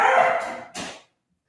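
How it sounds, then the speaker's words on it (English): Dogs barking in a backyard, apparently after a rabbit: a loud, close burst of barking followed by a second shorter bark, then silence. "Dogs must have found a rabbit in the backyard."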